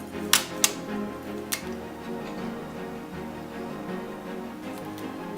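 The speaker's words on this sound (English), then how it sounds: "you tape down each heart to the yarn" Clear tape pulled off the roll to fix paper hearts onto yarn for a Valentine's garland: two quick rasping tears close together, a third a moment later, then quiet handling.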